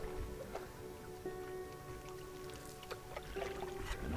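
A canoe is paddled over calm evening water on the French River, with soft, faint drips and gentle swishes from the paddle over a quiet, steady background hum.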